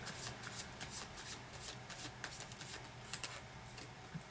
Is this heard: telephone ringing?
no